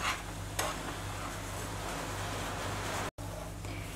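Sugar is stirred into a thick wheat flour and milk mixture for barfi in a pan, producing a steady close scraping and faint sizzling with a brief knock near the start and no talk.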